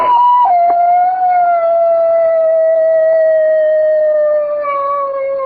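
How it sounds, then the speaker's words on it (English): A long, sustained howl holding a steady pitch that slowly sags downward, loud and close, with no other sounds around it. "that's a neighbor's dog, Mr. Hitchford"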